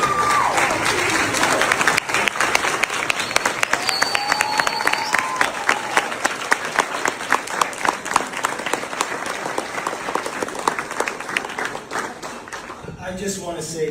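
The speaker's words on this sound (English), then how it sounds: "Give them a standing ovation for this incredible accomplishment." A crowd gives a standing ovation to honour the 2009 RL team at a city ceremony, with sustained, loud, dense clapping and occasional cheers that carry on steadily before tapering near the end.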